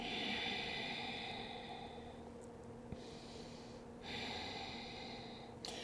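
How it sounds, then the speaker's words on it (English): Deep, slow breaths during a yoga stretch, two long airy inhale-exhale cycles close to the microphone, soft and steady with no talking. "Breathe deep."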